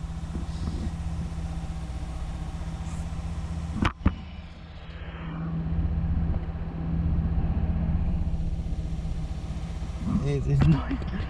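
A Volvo 2.4 non-turbo petrol engine with a misfire runs steadily under a constant throttle, a low continuous drone with an uneven hunting feel and a sharp bump near four seconds, while a person talks over it.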